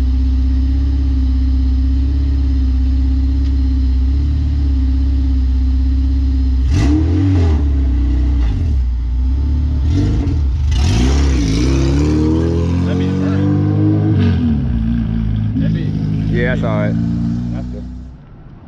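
A K24-powered Honda Integra fitted with a hybrid racing intake idles steadily, then revs and pulls away with rising engine sweeps, close and loud, with people talking over and around it.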